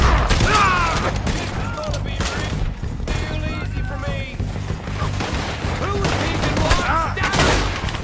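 Gunfire in Red Dead Redemption 2: a dense, loud, continuous volley of overlapping shots, with voices mixed into the chaos.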